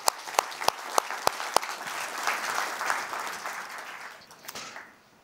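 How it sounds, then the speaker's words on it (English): An audience at a conference plenary on victory in Ukraine applauds. A few loud, spaced claps open it before the clapping swells into dense, sustained applause that tapers off near the end. "this applause for you"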